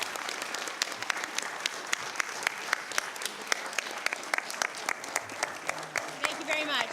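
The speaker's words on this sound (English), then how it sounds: "give one more round of applause" Audience applause fills a school board meeting, steady dense clapping from a room of people that holds for the full seven seconds at moderate loudness, with a few sharper individual claps standing out.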